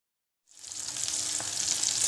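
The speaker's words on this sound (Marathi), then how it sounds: "हे बघा, आता छान फ्राय झाली आहे कारली" Stuffed bitter gourds fry in oil, a steady close sizzle that starts abruptly after a short silence and holds evenly bright to the end, with no voices.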